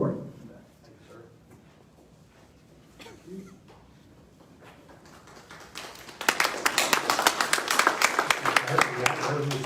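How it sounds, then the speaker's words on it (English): At a district town hall meeting a voice speaks over a quiet room before an audience breaks into loud, sustained clapping that fills the second half, many hands close and continuous. "You haven't heard me say anything yet, so no need to clap"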